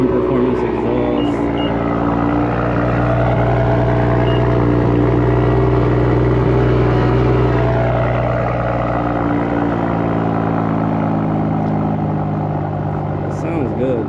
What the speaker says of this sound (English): Actually gotta show y'all the M Performance exhaust.